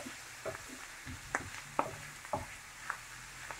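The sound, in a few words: stirring chopped carrots, courgettes, peppers and onions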